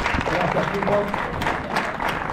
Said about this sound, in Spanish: fuerte aplauso para ellos por toda la organización